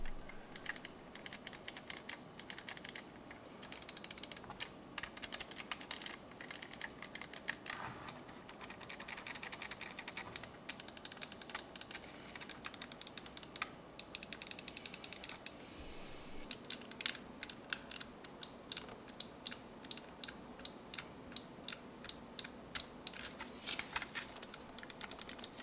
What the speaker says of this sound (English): I'm going to play the sound of the mouse clicks now